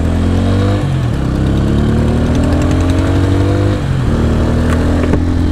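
A Bajaj Pulsar N150 motorcycle engine idling close by, a steady mid-pitched putter with a couple of brief revs that rise and settle back, no talking.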